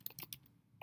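A few quiet, quick keyboard taps click out in a short burst, close by and soft.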